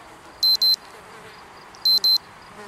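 An alarm goes off in the zombie survival game Project Zomboid during winter. It gives two pairs of loud, piercing electronic beeps, each pair a quick double pulse, over a faint background hiss.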